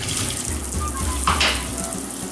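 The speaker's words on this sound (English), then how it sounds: "I turn on the hot water." Hot water runs steadily from a kitchen tap into a sink, rinsing a Nutribullet blender cup, with a soft continuous splash and a brief louder gush midway.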